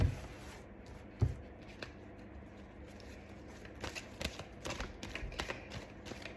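Oracle cards shuffled by hand in a quiet room, soft papery riffles and taps rising into a busier run of quick shuffling bursts in the second half, close and gentle with no talking.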